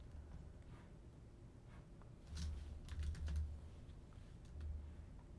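Typing on a computer keyboard during a Minecraft StoneBlock modpack stream, a few quick bursts of key clicks against a quiet background hum, fairly close and soft.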